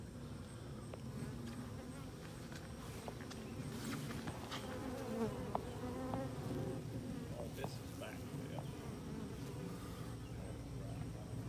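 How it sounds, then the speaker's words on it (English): A honey bee swarm hanging on wood gives a faint, continuous buzzing drone, with individual bees flying close by in brief louder passes over the steady hum, and no talking. "Got a little swarm to catch today. It's hanging on some wood."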